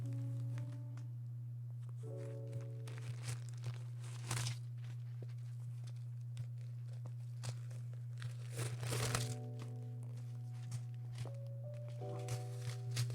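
Plastic and paper packaging crinkling and tearing while a limited edition Coach Quilted Tabby bag is unwrapped, close and soft, in scattered rustles over a steady low hum.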